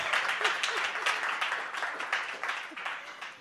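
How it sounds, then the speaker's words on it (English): A live audience breaks into sustained applause, a dense, steady wash of many hands clapping at moderate volume throughout, with no talking over it. "Applause, applause."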